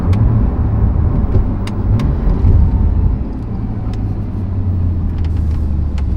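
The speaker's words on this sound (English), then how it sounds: "Sport Plus is the best as far as the actual sound of the vehicle." A car's engine and exhaust in Sport Plus mode give a deep, steady rumble that rises and eases slightly as it runs, loud and close throughout with occasional faint clicks and no voices.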